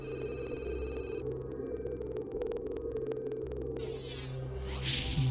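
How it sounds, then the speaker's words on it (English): A ship heard underwater produces a steady, low droning hum with layered tonal bands and faint rhythmic ticking, continuing unbroken, with brief high electronic tones at the start and a sweep near the end. "is the sound of a ship."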